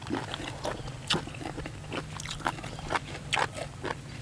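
Crispy fried squid is bitten and chewed up close, giving a string of sharp crunches and wet chewing sounds at an uneven pace.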